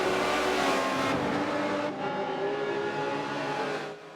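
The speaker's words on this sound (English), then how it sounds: "And here we have the Camaro again, easily passing us" Chevrolet Camaro race car in the Forza racing game, its engine roaring loud and close throughout, with a pass-by that swells and then fades, and no talk over it.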